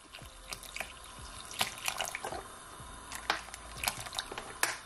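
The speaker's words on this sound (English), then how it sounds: "now I'm just gonna add some more water to it" Water pours and splashes into a blended pineapple sorrel drink, a continuous trickle broken by small splashes and drips, close and fairly quiet.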